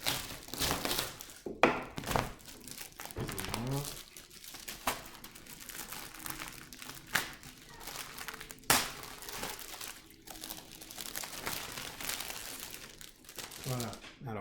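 The packaging of an Altaya Build Your R2-D2 kit gets opened: plastic and cardboard crinkle and rustle continuously, with occasional thunks and tearing, and someone talks throughout.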